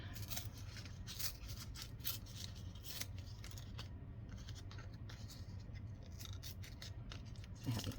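Heavy pre-made cardstock being torn by hand in a junk journal craft session, a close series of short scratchy rips and rustles at low level, with no voices.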